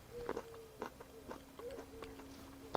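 Several crisp bites into firm, crunchy seedless Vitro Black table grape berries, close and quiet, spaced through the moment with no talk.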